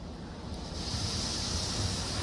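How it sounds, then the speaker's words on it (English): High-pressure wash spray at a Washworld Razor car wash, a steady hissing roar that swells after the first moment and holds loud and constant. "Get another high pressure wash."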